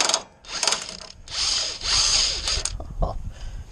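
A ratchet removes a sway bar link bolt on a truck in several quick, loud, close bursts of rapid clicking separated by short pauses.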